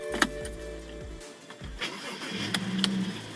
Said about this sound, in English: Now it's time to plug the battery back and start the vehicle and see what we got here.